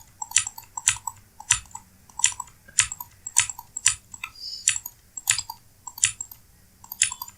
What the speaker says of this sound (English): I'm editing with the mouse and a gamer's keyboard, and gamer's keyboards, I don't know why they make them so noisy